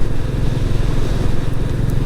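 A Royal Enfield Classic 350 single-cylinder motorcycle rides around the Olivers Mount race circuit, a loud, steady low engine thump with a rapid even pulse, close and continuous without speech.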